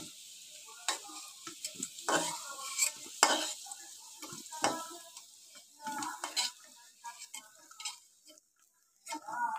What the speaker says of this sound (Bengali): আলু লাল লাল করে ভাজা নেব।